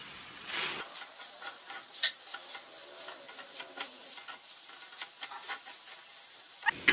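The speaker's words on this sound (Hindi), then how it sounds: "जो तड़का हमने बनाया है वो इसमें मैं मिक्स करूंगी" Tadka is stirred into white Afghani-style mash dal, giving a soft, continuous close hiss broken by small spoon clicks and scrapes throughout.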